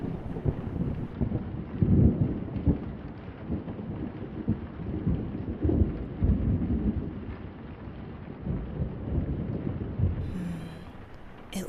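Thunder rumbles repeatedly through a steady rainstorm, with loud low booms rolling over continuous rain and some wind buffeting the microphone, close and enveloping throughout.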